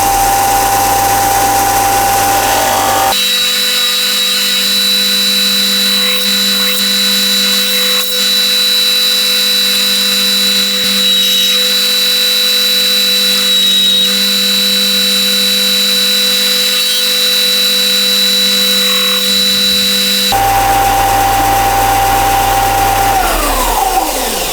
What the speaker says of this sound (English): We'll get that sanded and tidied up.